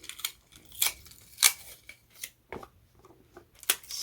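Scissors snip through sticky tape while a gift wrap bow is made on a wrapped box, a handful of sharp, close snips and crinkles spaced irregularly, with quiet pauses between.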